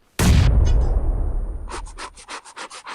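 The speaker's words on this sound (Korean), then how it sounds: "수류탄 간다" Grenade blast in the battle royale game PUBG Mobile: a sudden loud, close explosion with a rumbling decay, followed by a rapid series of sharp gunshot bursts.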